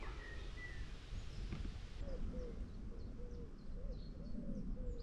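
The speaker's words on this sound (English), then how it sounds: "Some lovely bird song coming from that hawthorn tree." Soft bird song drifts from a hawthorn tree on open chalk downland along the Ridgeway near White Horse Hill: repeated short, faint whistled phrases over a steady background of wind and rustle.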